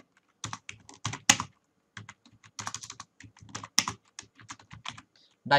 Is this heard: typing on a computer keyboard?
yes